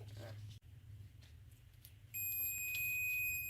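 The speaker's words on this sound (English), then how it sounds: "when I clip this on, you will hear the buzzer feature indicating continuity" A soft clack, then a steady high-pitched electronic beep from a ProTechTrader PDM-711 digital multimeter's continuity buzzer begins partway through and holds continuously until the end.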